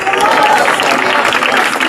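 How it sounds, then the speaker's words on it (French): Dense applause from a crowd at an outdoor sports evangelism session, steady and loud throughout with cheering voices mixed into the clapping. "on applaudit"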